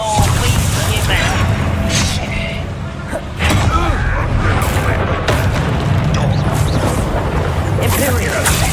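Booming blasts and crashing impacts from explosive spells in Hogwarts Legacy fill the scene, loud and dense, layered over continuous game noise and spoken lines.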